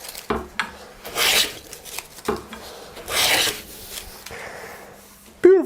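Hand plane shaving curly hard maple, with about four rasping, breathy strokes in an uneven rhythm, close and fairly loud, ending on a short squeak.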